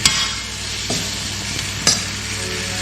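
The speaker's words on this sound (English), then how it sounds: "In with our beef. Stir it all through, guys. Nice and steady." Steady close sizzling of beef stir-frying in a hot pan, with a few distinct scraping stirs of a utensil over the constant hiss.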